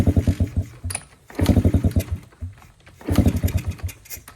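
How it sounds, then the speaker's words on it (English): An abandoned motorcycle's low-compression engine is cranked in three separate bursts, each a rapid chugging pulse that stops between attempts, heard close up. "Geez, you can tell it's a low compression engine."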